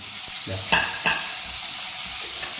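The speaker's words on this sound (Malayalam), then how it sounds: "ഓക്കെ തക്കാളിയും കൂടി ആഡ് ചെയ്തു" Tomatoes frying with masala in a pan, a steady close sizzle broken by a couple of brief scraping stirs.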